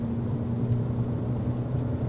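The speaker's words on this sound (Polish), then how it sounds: "A więc mamy bieg drugi i dajemy gazu." A Ford Kuga's engine hums steadily while driving in second gear under throttle, a continuous low drone with road noise and no talk over it.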